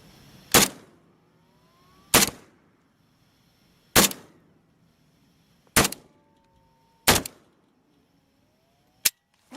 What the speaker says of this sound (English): This is the preferred method of shooting the rifle, of course.